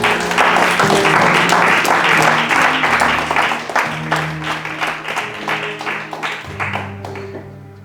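A church congregation breaks into loud, sustained applause acclaiming the Lord, many hands clapping over held keyboard chords, the burst tapering into scattered claps near the end.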